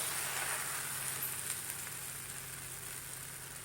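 A fasting-style thalipeeth cooks on a tawa, giving a faint, steady sizzle that stays low and even throughout, with no talking.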